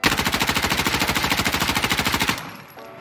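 Rapid automatic gunfire from a submachine gun (MP5 or MP7) during a recoil test in the Insurgency Sandstorm video game: a loud, even burst of closely spaced shots lasting about two seconds, then a fading echo and a faint mechanical click.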